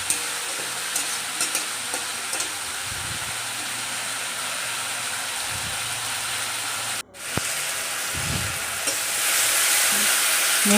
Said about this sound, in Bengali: দিয়ে ভালো করে মশলাটা কষিয়ে নিলাম।